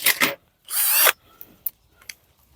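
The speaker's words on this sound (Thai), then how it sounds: "สว่านก็แบตหมดพอดีเลยพี่น้อง" A cordless power drill with a dying battery whirs in two short bursts, the second longer and straining, followed by faint clicks and clatter.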